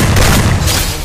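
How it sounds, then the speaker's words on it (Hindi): A grenade blast in Garena Free Fire's Bermuda Clash Squad mode booms loud and close, one heavy explosion with a rumbling tail that fades within a second. "बम फेंकता हूँ उसके पास"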